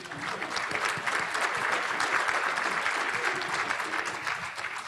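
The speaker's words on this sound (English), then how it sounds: "Let's give panel number 2 another round of applause" A conference audience in Dallas-Fort Worth applauds a panel, steady, dense crowd clapping at moderate level, heard from a distance in a large hall.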